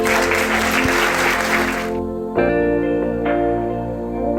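Applause from an audience at a Women's Day college event, loud for about two seconds then cut off as sustained musical tones and reverb take over.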